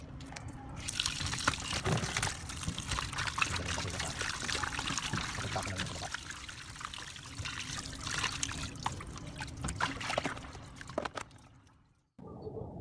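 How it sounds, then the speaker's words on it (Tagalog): Water pours and splashes over cut raw pork meat being rinsed, a steady trickling and dribbling at close range that stops abruptly near the end. "At matapos nga nating mahiwa-hiwa ang ating karne, ay hugasan muna natin."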